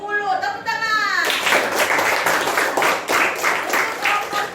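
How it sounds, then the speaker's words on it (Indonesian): A classroom of students clapping in a rhythmic burst after a group grade is announced, following a brief voice at the start; loud, close, patterned claps continue to the end. "Tepuk tangan."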